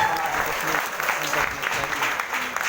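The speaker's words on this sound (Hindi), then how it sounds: "एक बार जोरदार तालियां अपने लिए।" An audience at a business-plan stage seminar claps in a dense, continuous burst, with a few voices faintly under the applause.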